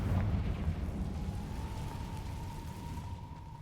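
Confringo fire spell cast in Hogwarts Legacy, a rumbling fiery burst that rolls and crackles low, fading into a sustained roar with a faint tonal whine.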